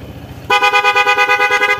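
A loud, close Honda PCX160 motorcycle horn blares in a steady tone with a rapid pulsing warble, sounding suddenly after a quiet moment of low background noise.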